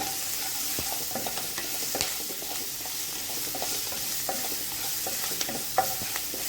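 Garlic and green chili paste is stirred and fried in a pan, making a continuous sizzle broken by repeated spatula scrapes and taps, close and fairly loud, with no voices.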